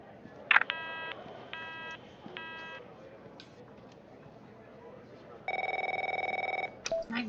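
A telephone in the game The Operator gives a sharp click, then three quick electronic ring bursts, a pause, and a longer steady ringtone followed by a short beep.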